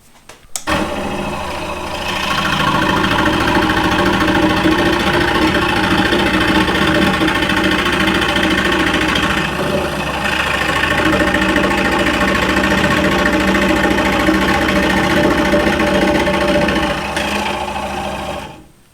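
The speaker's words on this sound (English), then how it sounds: "The jigsaw struggles with this really bad." A jigsaw cuts handle openings in a wooden serving tray, buzzing loudly and continuously at a rapid reciprocating rate, with slight shifts in pitch as the blade labours through the wood.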